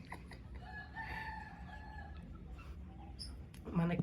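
Chickens and chicks in a farmyard in Bangladesh make faint, distant clucking calls over a soft background hiss, with a louder rustle at the very end.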